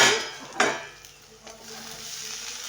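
Vegetables frying with coconut in a pan: a soft sizzle broken by a couple of sharp stirring scrapes, close by and without speech.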